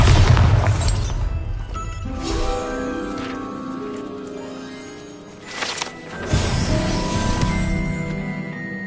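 A Bombarda blasting spell goes off in Hogwarts Legacy with a deep booming explosion, a shattering crash of debris, and a second rumbling burst a few seconds later, both up close and loud.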